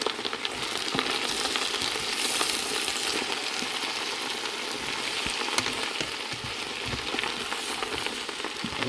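Potatoes and leeks sizzle and fry in a pot while being stirred, a dense continuous crackle with scattered scraping clicks, close and fairly loud, no talking.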